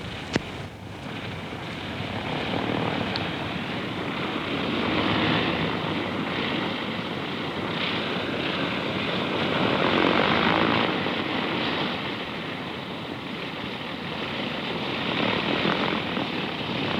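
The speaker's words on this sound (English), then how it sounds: "That plane has taken 1 hour and 3/4 to make the flight from Renfrew" A propeller plane flies overhead after the run from Renfrew over a remote island hillside, a steady droning engine that swells and fades slightly across the pass, moderately loud with a breezy wash behind it.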